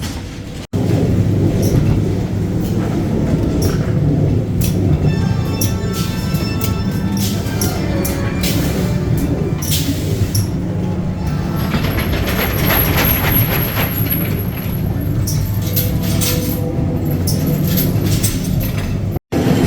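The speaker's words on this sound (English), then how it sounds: "another turnaround on the Ghost Train" A loud, continuous rumble of Ghost Train ride cars rolling on rails at Blackpool Pleasure Beach, with clattering wheels, metallic squeals and bangs throughout, no voices.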